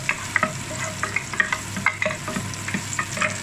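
Garlic sautéing in a pan for chicken tinola, a soft sizzle broken by quick, repeated stirring scrapes close by.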